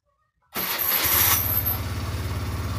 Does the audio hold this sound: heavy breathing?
no